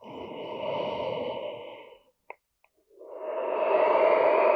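Slow, deep breathing in a seated chair breathwork session: a long audible exhale, a short silent pause with faint clicks, then a rising inhale, close and clear with no talking.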